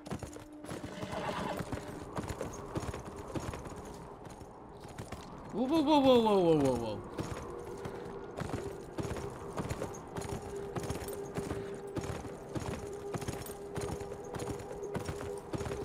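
Horse hooves clip-clop steadily in the video game Beyond: Two Souls, broken midway by a loud, descending whinny. A voice briefly exclaims over the hoofbeats.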